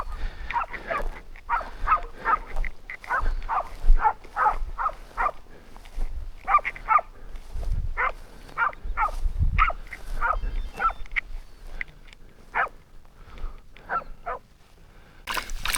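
Hunting dogs bark in repeated bursts, several voices overlapping in a steady run of close yaps and barks, with low thumps and movement underneath throughout.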